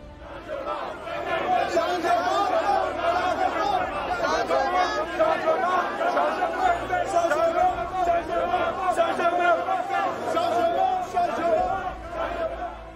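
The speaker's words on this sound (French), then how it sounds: "même dans la cité capitale, il est accueilli par une foule dense" A dense crowd in Yaoundé welcomes opposition leader Maurice Kamto. Many voices chatter and shout together in a loud, steady outdoor hubbub that lasts the whole time.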